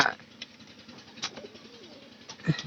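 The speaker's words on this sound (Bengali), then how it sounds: "একটা কবুতর রাখা দিছি" A single pigeon coos softly in a small enclosure, with a few faint low coos spread over a quiet background.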